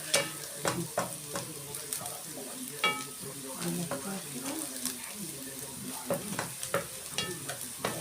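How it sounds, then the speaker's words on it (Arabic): Onions fry in a pan and are stirred repeatedly, giving a continuous sizzle broken by sharp scraping and clinking strokes, close and moderately loud. "عم اقلب في البصلة، عايزاها تحمر"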